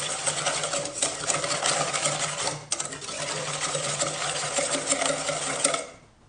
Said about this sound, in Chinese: 先用蛋抽搅拌均匀，先把蛋黄抽散